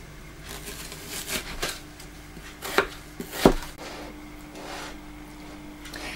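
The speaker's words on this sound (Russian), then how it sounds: "Для этого мы лук, морковь и капусту измельчаем и пассируем." Onion, carrot and cabbage being chopped for stuffed cabbage rolls, a few sharp knife strikes on a board standing out among softer scattered cuts in a quiet kitchen.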